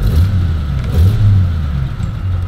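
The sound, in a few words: 1931 Studebaker Dictator Regal engine starting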